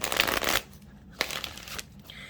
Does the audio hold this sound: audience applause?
no